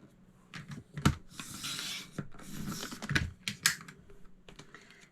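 Paper being sliced with a trimmer for a fall-themed scrapbook layout: a run of close scratchy cutting strokes and sharp clicks, with no talking.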